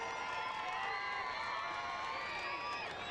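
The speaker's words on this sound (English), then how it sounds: "The crowd here at City Stadium giving Macy Landell their support." A stadium crowd at a women's soccer match cheers and calls out as a player steps up for a penalty kick, a continuous wash of voices with some higher shouts and whoops rising above it.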